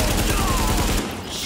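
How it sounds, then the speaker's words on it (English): Rapid bursts of gunfire from The Division video game crackle in a dense, loud fusillade for about a second before cutting off abruptly to a quieter background. "Where the hell am I getting shot from?"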